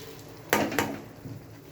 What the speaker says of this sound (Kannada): ಚೆನ್ನಾಗಿ ತಿರುಗ್ಸೋಣ.